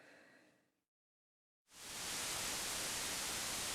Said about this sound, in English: let's first of all hear some white noise